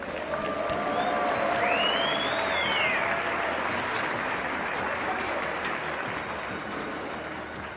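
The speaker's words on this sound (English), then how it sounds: "Make some noise for Stardust." A large tournament crowd at a StarCraft 2 DreamHack match applauds and cheers in a dense, sustained roar, with a few whistles rising above it, slowly fading toward the end.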